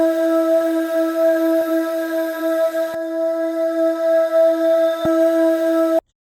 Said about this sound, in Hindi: ये वोकल्स के साउंड हैं, एटमॉस्फेयर वाले, कैशमीर पैक से लिए हुए हैं।